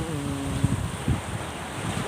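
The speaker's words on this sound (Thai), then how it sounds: "คลื่นสวยๆเห็นไหม เสียงคลื่นมันสาดมันสาด" Sea waves splash against a boat off a beach in Sattahip, Thailand, heard as soft surges beneath strong wind buffeting the microphone, with brief louder splashes.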